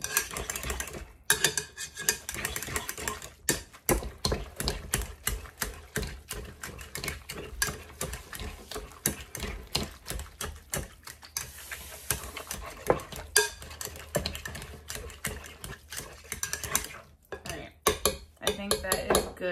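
A utensil mashes food in a metal pot during home cooking, giving rapid, repeated scraping and clacking strokes that stay close and fairly loud, with brief pauses between bursts.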